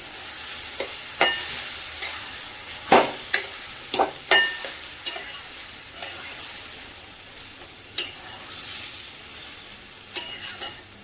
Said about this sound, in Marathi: आता गॅस कमी करून प्रथम सर्व साहित्य व्यवस्थित एकत्र करून घेऊया